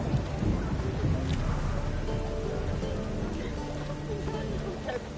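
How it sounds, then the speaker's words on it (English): Steady heavy rain pours in The Witcher video game, forming a dense continuous wash with faint rumbles of thunder underneath, plus a few scattered sharper sounds. "Cost you double in the rain."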